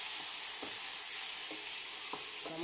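Tomatoes fry with green chillies in a pan over a medium flame for a tangy chilli dish, giving a steady close sizzle broken by a few soft clicks of stirring, with no voices.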